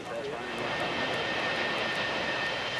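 Jet aircraft engines roar steadily near a runway at Stapleton International Airport in Denver, a loud continuous rumbling whine with no breaks, heard close and alone.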